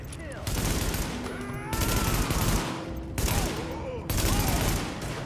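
Heavy rooftop machine-gun fire in The Division, dense sustained bursts that cut in and out in several long volleys, loud and close, with a faint voice underneath.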